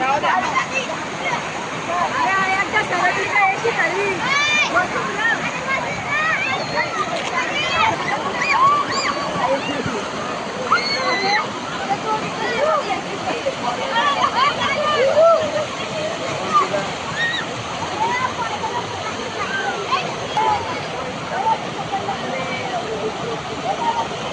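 Adai waterfall rushing and splashing continuously with broad roaring spray, a family's voices and calls heard over the water.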